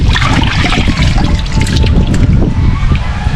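Tap water runs steadily while food is rinsed, a continuous close splashing trickle with faint voices now and then beneath it.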